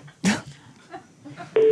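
A phone number is dialed on a telephone with a few short electronic keypad tones, quiet and close. A louder steady tone comes at the end.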